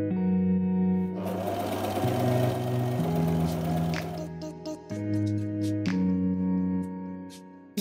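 A sewing machine stitches a bra top with a steady motor whine whose pitch shifts in several step-like stretches, stopping and restarting, close by with no talking.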